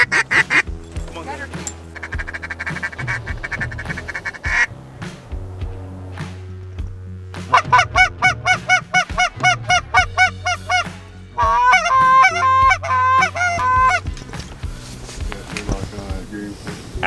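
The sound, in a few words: geese honking as a flock passes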